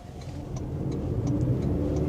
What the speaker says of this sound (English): Now this 4-cylinder does drone a little bit, makes a bit of noise